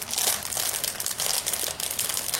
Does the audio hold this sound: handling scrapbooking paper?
yes